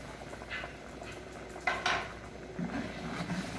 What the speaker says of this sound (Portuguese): Mexe e deixa ele aqui ferver.